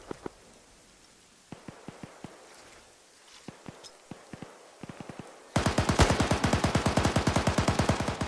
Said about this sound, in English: Multiple frags going out.